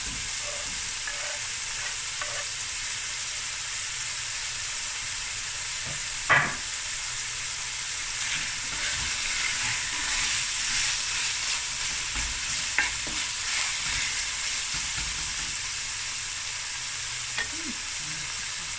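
Pieces of meat and marrow bones fry in a pot for a stew, giving a steady close sizzle and hiss broken by occasional scrapes and clacks of stirring.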